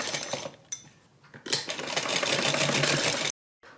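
A sewing machine stitches along a fabric strip on a kurti. It runs in short bursts at first, then in one steady, close run of about two seconds before stopping.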